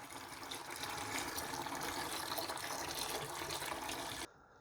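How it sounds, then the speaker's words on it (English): Water siphoned out of the first chamber of a Maxspect Dice nano reef tank during a water change, a steady rushing gush that runs evenly and then cuts off abruptly near the end. "Start the siphon and just siphon out the full chamber."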